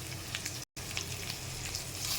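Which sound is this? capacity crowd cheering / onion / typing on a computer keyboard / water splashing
onion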